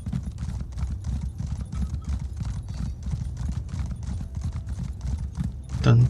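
A horse galloping in Elder Scrolls Online, a fast steady clip-clop of hooves running without pause, with a brief whinny near the end and some speech.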